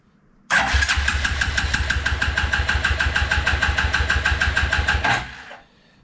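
A 1993 Suzuki King Quad 300 ATV engine cranks steadily for about four and a half seconds, a loud, rapid, even chugging from the starter that never catches, then winds down and stops.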